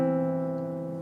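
Two classical guitar notes plucked together in a pinch, C on the second string and E on the fourth, ring clearly and evenly as a single sustained dyad that fades gently, with no talking.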